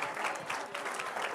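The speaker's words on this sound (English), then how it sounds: "Can we give him a nice round of applause?" Audience applause at the Nedbank Cycle Challenge 2020 prize-giving ceremony: dense, steady clapping from a crowd, moderately loud and continuous throughout with no voices over it.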